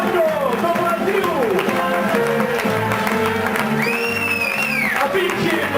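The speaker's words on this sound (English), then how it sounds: "And a cheer for Marco from Brazil." A cruise ship audience cheers and applauds in a dense, continuous crowd roar with clapping and whoops, while a presenter's amplified voice carries over it and a sung or whistled tone rises near the end.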